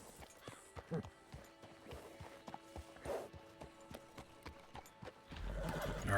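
A horse whinnies and moves nearby, its hooves clip-clopping in an uneven rhythm with several sharp thuds, the sound fairly quiet and rising into louder rustling toward the end.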